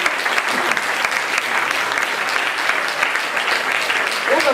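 Steady, dense applause from an audience at a Russian-themed evening show, sustained and fairly loud throughout with no pause.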